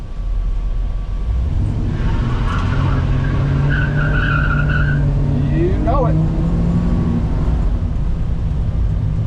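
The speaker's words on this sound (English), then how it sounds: "Burnout?" A 1968 Chevrolet C10 pickup does a burnout: a loud engine roar runs throughout with rising tire squeal and skidding in the middle, and people talk over it.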